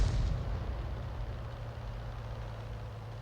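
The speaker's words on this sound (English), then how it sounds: "he's firing blind into that corner with his first shot, just in case there was an enemy tank hiding behind it" LeFH18B2 artillery gun firing in the World of Tanks video game, a heavy, deep boom at the start that fades into a long low rumble with a faint engine-like drone underneath.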